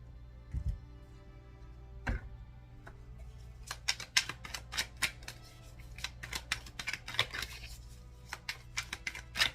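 An oracle card being drawn from a deck, with quiet, close papery shuffling and flicking clicks, a few soft taps early, then a busy run of small crisp snaps against a low hum.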